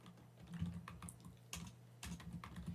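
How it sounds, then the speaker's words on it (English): Quick bursts of keystrokes on a computer keyboard as a git merge command is entered, close and clear, with brief pauses between clusters of key presses and a steady low hum beneath. "We can do that by typing git merge new branch."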